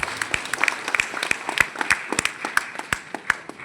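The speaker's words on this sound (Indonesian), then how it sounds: "Tepuk tangan untuk kita." Applause at a vocational high school farewell in Papua, Indonesia: a crowd of many hands clapping in a dense, irregular patter that holds steady for a few seconds at moderate distance, with no voices standing out.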